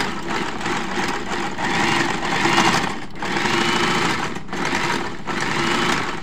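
A Janome sewing machine runs with its belt freshly refitted, giving a steady, fairly loud motor whir that swells and dips slightly over several seconds with no talking.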